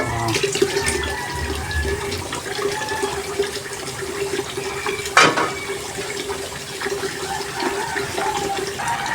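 Raw chicken being rinsed under a running kitchen tap while cooking tinolang manok, a steady stream of water splashing continuously with a brief louder splash partway through.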